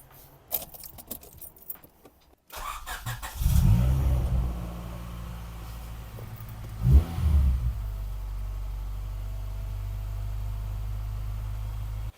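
Keys jangle, then the rebuilt car engine cranks and catches with a rising rev, blips again a few seconds later, and settles into a steady mid-pitched idle, close and alone.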